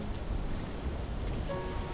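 Steady rain pours down on a stormy night in an animated horror story, a dense, continuous hiss of drops with no voices.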